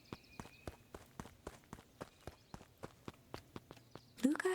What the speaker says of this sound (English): Luca heard a group of footsteps approaching.